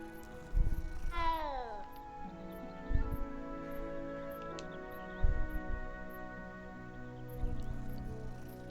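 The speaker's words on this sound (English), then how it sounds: "It's a real nice cat, isn't it?" A cat in the Hogwarts Legacy video game gives a rising meow, followed by a few soft game sounds over a steady musical background.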